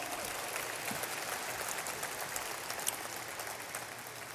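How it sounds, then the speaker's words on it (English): An audience at a school district athletic Hall of Fame induction ceremony claps steadily for the new inductees, a continuous, even wash of applause heard from within the crowd, fairly soft throughout. "Let's give them a big round of applause."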